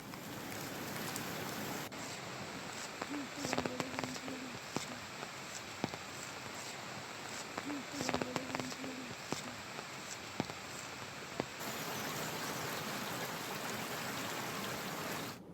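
Rain falling in Uttarakhand, a soft, steady patter on surfaces with scattered sharper drips and faint footsteps, quiet and continuous in the background.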